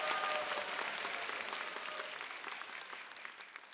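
An audience at a children's song festival applauds a children's choir and its teacher, a dense, continuous wash of clapping that starts strong and slowly tapers, with a brief voice at the start.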